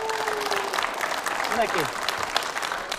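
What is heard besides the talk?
audience applause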